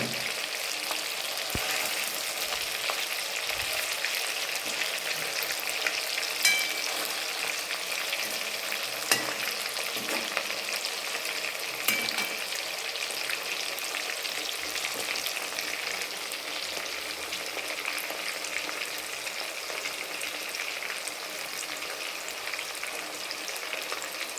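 Chicken pieces fry in a pan with a dense, steady sizzle and crackle, with faint scraping as the pieces are turned, close and continuous throughout.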